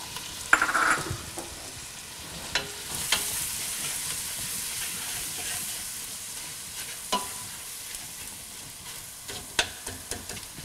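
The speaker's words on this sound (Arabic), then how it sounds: "البنه ديالها كنخرجوها دروك من البصل ملي كي يتقلى مزيان حتى كيدبال" Onion frying in a pan with spices such as cumin and coriander, a steady soft sizzle with occasional sharper stirring scrapes and clicks, close by and without talk.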